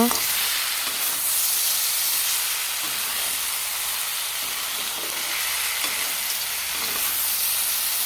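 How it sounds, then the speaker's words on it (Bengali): Pasta with tomato, potato and capsicum is stirred through spices in a pan, giving a continuous bright hiss and sizzle with soft, periodic scraping strokes as it is mixed, close and fairly loud. "এখন পাস্তাটাকে মশলার সাথে মিশিয়ে নেব"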